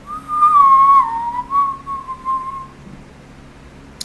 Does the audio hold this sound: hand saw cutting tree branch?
no